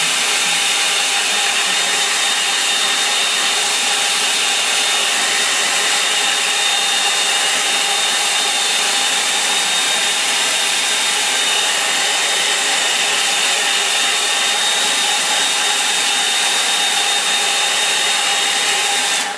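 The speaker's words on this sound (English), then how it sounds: "Right, I'm going to dry that, so take your headphones off if you've got them on right now. Turn the dryer on," A hair dryer blows steadily to dry acrylic paint in a line-and-wash sketch, a loud, continuous, even whir with a faint high whine that holds unbroken throughout, with no talking.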